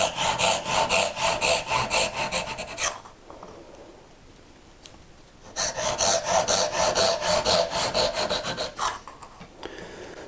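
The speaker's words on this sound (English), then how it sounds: "just cut down to the baselines" A hand saw cuts dovetails down to the baselines in wood, with quick rhythmic rasping strokes in two close bursts separated by a quieter pause, then a brief final stretch of strokes.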